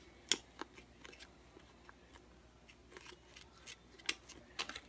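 Scissors snipping through plaid ribbon for a Christmas craft, a few separate crisp cuts spaced irregularly, close and fairly quiet.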